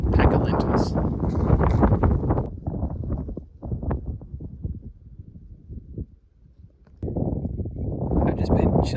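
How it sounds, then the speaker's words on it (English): Wind gusts buffet the microphone outdoors on a rock in the Wichita Mountains at sunset, in heavy low rumbling bursts that ease into a near-silent lull before picking up again. "It's just a little bit windy, but not too bad."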